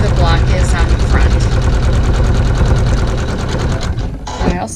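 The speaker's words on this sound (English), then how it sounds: "with the water soluble thread we'll sew a tack down that holds the backing fabric on" Embroidery sewing machine stitching a tack-down line with water soluble thread to hold backing fabric onto a quilt block, a loud steady mechanical whirr that runs throughout and eases slightly near the end.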